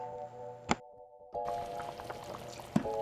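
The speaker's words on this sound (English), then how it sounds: "Sometimes we like to think outside the box and add a little ketchup." Ketchup glugs and pours into a simmering chicken stew, a faint wet pour with a couple of soft plops and clicks over low kitchen hum.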